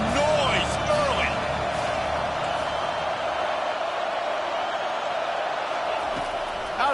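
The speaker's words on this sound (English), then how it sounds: "This crowd bringing the energy and noise early." Steady roar of a football stadium crowd in a college football game broadcast, a dense continuous wash of cheering that holds loud throughout, with scattered whoops and a commentator's voice layered on top.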